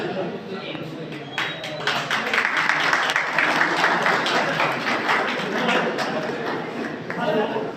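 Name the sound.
audience clapping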